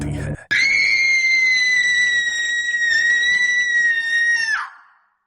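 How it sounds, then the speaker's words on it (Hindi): A girl lets out a single loud, piercing scream that holds steady for about four seconds at a high pitch, then cuts off sharply, close and harsh, in a horror-story sound effect about a cursed doll. "अनामिका पलटती है और जोर से चिल्लाती है।"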